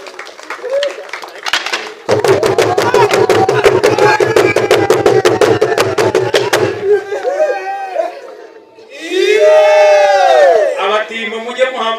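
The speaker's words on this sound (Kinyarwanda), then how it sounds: "Amashyi menshi kuri iki cyiciro." A crowd at an award ceremony for district partners in Kirehe, Rwanda, claps and cheers loudly. Rhythmic, drum-like beats run through the middle, then high, wavering cheers swell near the end, with voices mixed into the noise throughout.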